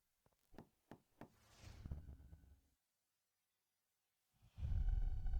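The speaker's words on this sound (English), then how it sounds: "I'll knock on the door." Knocking on an apartment door as police wait to make an arrest: three sharp separate raps, followed by a rougher rustling burst, a silence, then a loud broadband rush.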